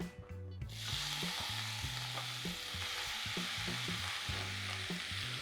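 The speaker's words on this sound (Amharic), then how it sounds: "መጀመሪያ አኩሪ አተሩን ትንሽ ቀላ እስኪ ድረስ እንጠብሰዋለን።" Soybeans fry in oil in a non-stick pan while being stirred, giving a steady, close sizzle and scraping that runs throughout under background music.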